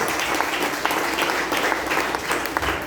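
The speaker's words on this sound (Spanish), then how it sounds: "Un aplauso fuerte, hermanos y hermanas." Loud, dense applause from a church congregation during a Spanish-language worship service, steady and continuous throughout with sharp claps scattered across the sustained roar.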